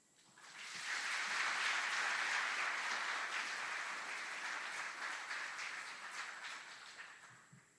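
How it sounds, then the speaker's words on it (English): A graduation audience for the 128th Aviation Brigade at Fort Eustis gives drill sergeants and instructors a sustained round of applause, rising quickly, holding dense and full, then slowly thinning toward the end. "Please join us in giving a round of applause to these outstanding drill sergeants and instructors."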